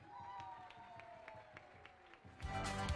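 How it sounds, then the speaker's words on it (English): Applause for a para-athlete swimmer after a butterfly race at national swimming championships, starting faint under a steady hum and swelling into louder clapping and crowd noise near the end. "A big round of applause for"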